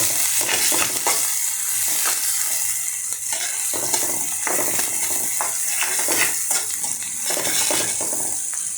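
Chopped onion sizzles steadily in white cooking oil in a pan while a spatula stirs it with repeated scraping clicks, close and fairly loud, with no voices.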